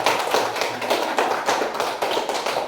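A group claps for Hanifah, a student, in a classroom lesson on coding and artificial intelligence; dense, fairly loud clapping comes in a few rhythmic bursts that rise and fall throughout.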